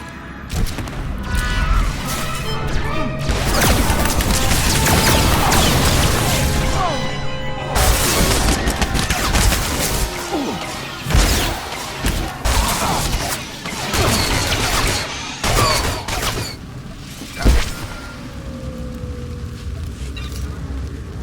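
Blaster fire and impacts in a Star Wars: The Old Republic battle against Imperial soldiers, dense volleys of shots and crashes at first, then scattered loud bursts and thuds.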